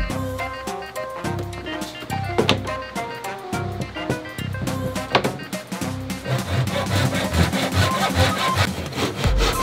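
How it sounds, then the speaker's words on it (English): Japanese pull saw cutting wood during an RV bunk room remodel, repeated rasping strokes in an uneven rhythm, close and fairly loud, with no talking. "I've got a Japanese pull saw, and I can just quickly make those cuts."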